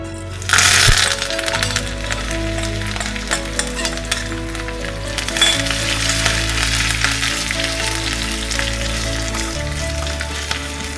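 Black pepper, cumin, ginger, curry leaves and asafoetida crackle and spit in hot oil for a millet kichdi, a loud steady sizzle with dense popping that swells early and continues throughout, with no talking.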